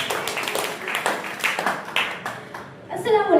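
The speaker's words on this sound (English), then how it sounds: "Let's give a big clap for Sheikh Aiza." At a school elocution competition, an audience of students and teachers claps in scattered, uneven bursts for a few seconds, with a voice speaking over the clapping near the end.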